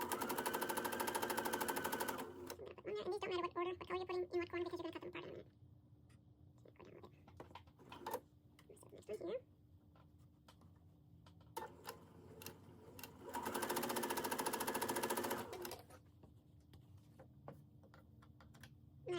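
Sewing machine stitching pieces of a card trick quilt block, with two loud sustained runs of rapid mechanical whirring at the start and again near the end, separated by quieter handling noises.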